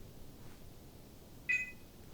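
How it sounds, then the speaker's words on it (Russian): A camera sounds a single short electronic low-battery beep, quiet and brief, over a faint background hiss. "все камеры походу, все пищит вокруг"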